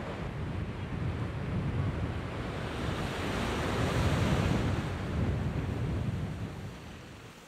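Rough sea waves surge and break continuously off Rottnest Island, Australia, a loud broadband wash of surf mixed with wind buffeting, with no voices.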